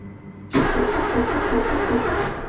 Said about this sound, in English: So first thing I'm going to do is see if we have a starter.